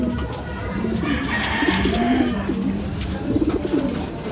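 Several racing pigeons coo softly and repeatedly at close range, low throaty calls overlapping against a faint background hum.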